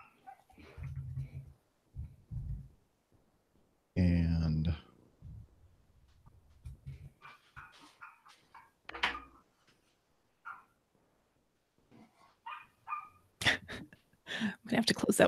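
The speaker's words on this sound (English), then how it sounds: "She has 3 small dogs that bark a lot." Several small yappy dogs bark in brief bursts, one loud close outburst standing out, mixed with ongoing conversation between people talking indoors.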